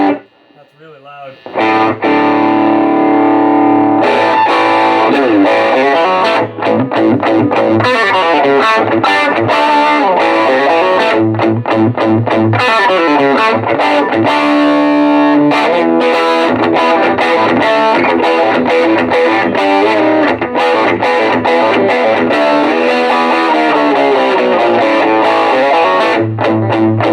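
Electric guitar played through a 1987 Peavey Audition 30 amp with distortion, loud sustained crunchy chords and riffs running almost nonstop at high volume, close and dense, with no talk heard.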